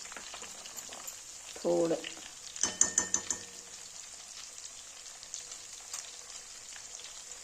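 Butter simmering down into ghee in a pan, bubbles thinning out, giving a soft steady fizz with a brief burst of popping crackles; a voice speaks briefly over it.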